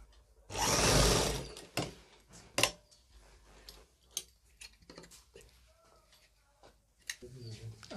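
A tailor's sewing machine stitches the back pocket onto a pair of gents' pants in one loud, close burst of about a second, followed by scattered clicks and handling noises.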